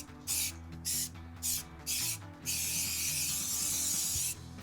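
A spray can laying light passes of paint onto a car brake caliper, close hissing bursts in four short sprays followed by one longer continuous spray, with a low background hum.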